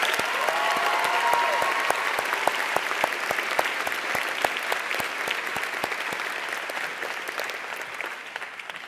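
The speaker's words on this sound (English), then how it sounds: "Please join me in a round of applause." A commencement ceremony audience claps in a dense, sustained round of applause that holds steady and slowly thins toward the end, with no voices over it.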